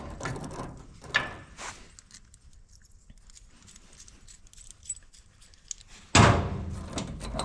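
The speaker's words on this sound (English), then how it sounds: "it should come off the rest of the way after we rock the gearbox back" Mechanical clunks and ratcheting rattles come from the gearbox of an Oliver 64 grain drill as it is rocked back and worked free during transmission removal, with a few scattered knocks and a louder clatter near the end.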